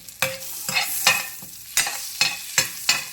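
Cinnamon, cloves and bay leaf fry in hot Amul butter, giving a steady sizzle. About seven clear spoon scrapes against the pan sound at a regular pace, close and fairly loud, with no talking.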